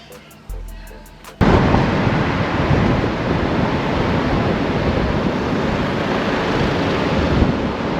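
Strong wind roars across a microphone on a beach at Ballina, New South Wales, with the broad, steady wash of surf behind it, loud and continuous after a short quieter start.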